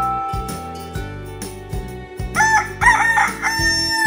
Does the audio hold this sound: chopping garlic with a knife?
no